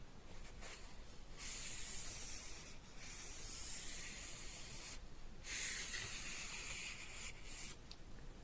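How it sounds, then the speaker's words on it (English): Tissue rubbed along a gun barrel, giving a steady near scratchy rubbing hiss in repeated strokes with brief pauses between them. "I'm going to rub it along this barrel."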